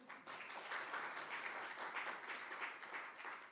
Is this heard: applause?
yes